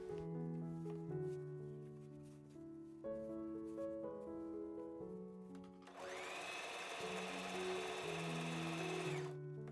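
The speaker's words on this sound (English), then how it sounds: "Just keep pulling and sewing until you see the first few stitches that you did" A sewing machine stitches a fabric scrunchie made by the burrito method, its motor whirring in steady runs under background music, with a louder, brighter stretch of fast continuous stitching near the end.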